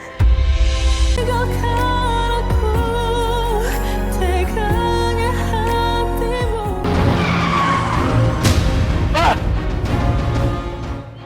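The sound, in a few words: car skidding dangerously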